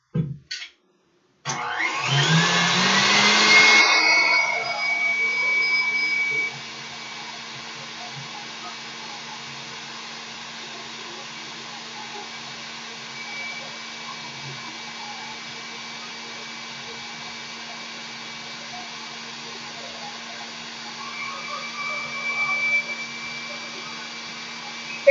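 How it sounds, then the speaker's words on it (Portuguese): An electric mixer beats egg whites with half the sugar into a firm meringue for a chocolate caramel cake, its motor kicking on abruptly with a loud rushing whir before settling into a steady, close, continuous hum with no talking. "E vou bater essas claras."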